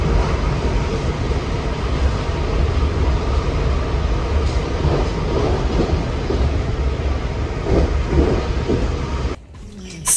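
A train rumbles steadily past outdoors on a hot day, a loud, continuous low roar with rattling for about nine seconds before it suddenly drops away.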